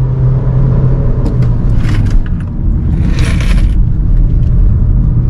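Car with an automatic transmission climbing an uphill road, a loud, steady engine and road rumble with light rattles and jingling throughout, no voices.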